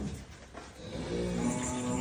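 A Cholistani Friesian cross cow on a dairy farm moos in one long, low, drawn-out call that swells toward the end, close and alone without talk.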